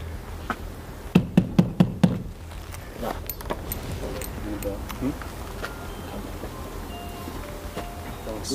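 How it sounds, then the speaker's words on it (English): Five sharp, evenly spaced knocks on a door ring out close and loud, followed by quieter shuffling and background noise during a police forced-entry operation. "Give him a knock."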